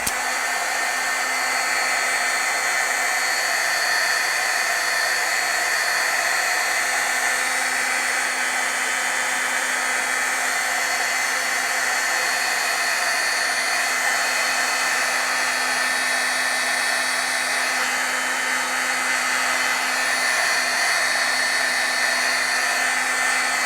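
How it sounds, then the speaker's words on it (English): A heat gun runs continuously at a steady, loud level, setting stamped ink on a Stampscapes scenery card, its even whoosh holding unchanged throughout with no talking. "I'm going to have to heat set here because I don't want to get in my leaves here too much"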